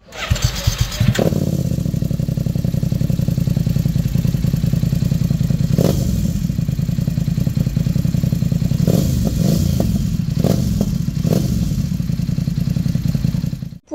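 A BMW F900XR motorcycle fitted with an aftermarket exhaust line, baffle removed, starts up and idles with a loud, deep, throbbing burble. A few sharp blips of revving cut through the idle, heard close up with no talking.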